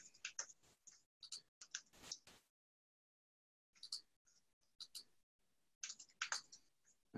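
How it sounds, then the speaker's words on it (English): Rapid typing on a computer keyboard: quick bursts of close, crisp key clicks, broken by a silent pause of about a second, then more fast clattering keystrokes. "I'm typing so fast."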